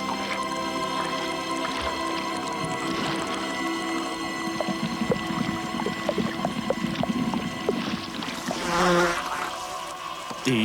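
Flies buzz indoors in a steady insect whine that varies in pitch, with scattered small ticks and a louder swell near the end, heard alone without speech.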